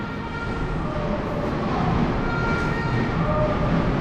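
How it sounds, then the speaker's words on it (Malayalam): A tram rumbles steadily on its rails, a low continuous rolling noise that grows slightly louder as it nears, with faint street noise around it. "അടുത്ത ട്രാം വരുന്നുണ്ട്"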